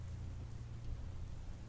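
Steady rain at one o'clock at night, a constant dense wash with a low rumble, even and unbroken throughout with no voices.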